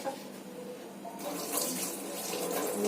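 Tap water runs steadily into a sink while puja items such as flowers and bel leaves are rinsed, a continuous close splashing hiss with no talk.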